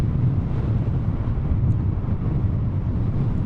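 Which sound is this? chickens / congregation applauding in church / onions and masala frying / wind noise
wind noise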